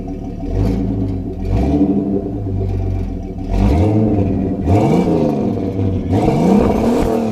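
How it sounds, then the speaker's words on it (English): A widebody Jeep Cherokee engine, running rich and untuned, revs up several times in separate bursts, each rising in pitch and falling back to a rough idle between them. "I guess I have to give it a couple of revs for you."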